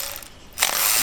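A hand ratchet clicks through a short burst during a supercharger installation on a 2016 Cadillac CTS-V, the rapid pawl ticking loud and close, preceded by a quieter stretch of garage ambience.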